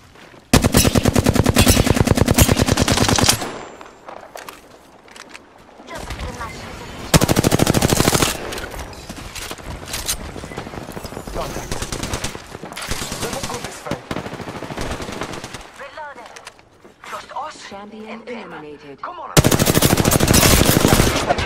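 Gunfight in Apex Legends, with loud sustained bursts of automatic weapon fire alternating with quieter stretches of scattered shots and game voice lines, the heaviest volleys at the start, middle and end.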